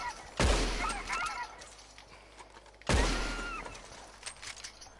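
Two sharp gunshots crack out a few seconds apart in the Red Dead Online video game, each with a booming tail, while faint honking gobbles from wild turkeys sound between them.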